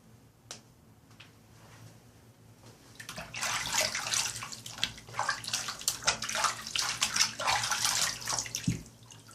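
Water from a tap runs steadily over a razor being rinsed after a shave with unscented vegan soap, a close splashing wash that swells after a quiet start, with faint clicks at the edges.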